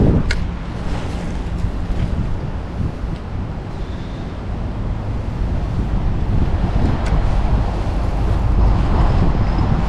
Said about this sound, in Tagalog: Napalakas-lakas po kasi ng hangin sa dagat.